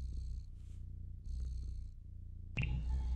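A cat in the video game Stray purrs in a low, steady rumble, soft and close, with faint airy tones drifting over it and a brighter chime-like sound entering near the end.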